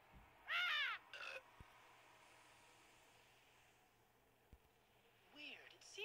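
Bird in the video game Porta Pilots squawks with a loud, harsh cry near the start, then again briefly, while a person talks quietly between the calls.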